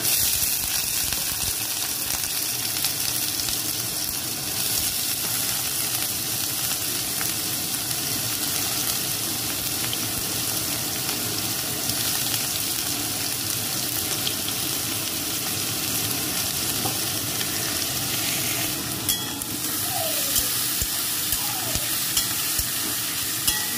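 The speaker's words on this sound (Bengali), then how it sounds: "এবার এগুলো দিয়ে দিলাম কড়াইয়ের মধ্যে।" Chopped pointed gourd and onion frying in a kadai for a Bengali posto dish, a steady loud sizzle with scraping stirring throughout, close up and without speech.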